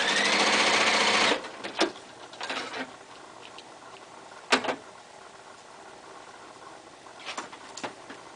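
A sewing machine chain stitches quilt pieces in a fast, steady whir for about a second, followed by quieter handling clicks and light taps with brief bursts; no one speaks.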